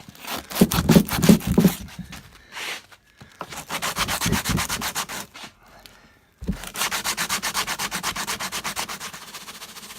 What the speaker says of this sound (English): I'm going to start with some 80 grit sandpaper and a foam pad here.